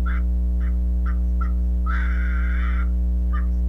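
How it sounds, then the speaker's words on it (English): A pet parrot gives a run of short harsh squawks, then one longer raucous call, with loud constant mains hum underneath. "She keeps squawking and it scares me."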